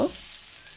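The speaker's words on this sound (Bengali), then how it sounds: "এই জন্য মাছগুলো আগে ভেজে নেব" Small hilsa fish frying in hot oil, a brief close sizzle that opens with a sharp spatter and then settles into a soft, even hiss.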